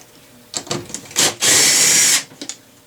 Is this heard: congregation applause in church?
no